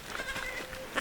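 A little goat bleats close by in short, wavering cries, with a sharper call right at the end, out in a farm pen among other goats.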